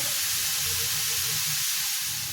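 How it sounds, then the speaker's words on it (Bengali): Onions frying in hot oil with cinnamon and sugar, giving a steady, dense sizzle and hiss that stays loud and even throughout without a break. "পেঁয়াজগুলো দিলাম তো পেঁয়াজটা লাল করে ভাজা হোক"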